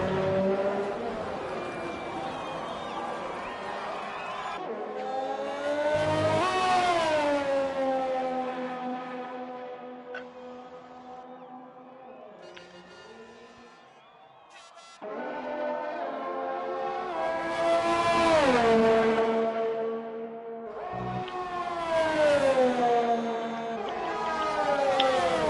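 Race cars in a video game pull away on their opening lap of the Japanese Grand Prix. Loud, rising and falling engine whines sweep past in waves, under a steady background roar.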